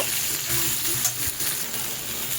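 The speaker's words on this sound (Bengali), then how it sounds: "এবার এই বেগুন আর আলুটাকেও হালকাভাবে আমি তেলের মধ্যে একটু নেড়ে চেড়ে নেব" Eggplant and potato pieces fry in hot oil with a steady, close sizzle while being stirred, and a spoon occasionally scrapes the pan.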